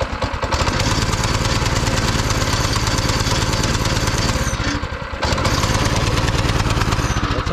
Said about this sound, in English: this Predator engine starts right up